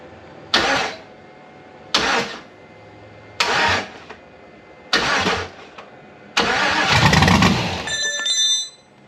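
LS-swapped C4 Corvette engine cranking through four loud, short starter bursts before catching and running roughly for about two seconds on its first start, recorded close with no talk.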